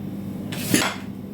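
A cutting board is picked up off a kitchen counter while lazy cabbage rolls are being prepared, giving one brief scraping clatter near the middle of an otherwise quiet moment.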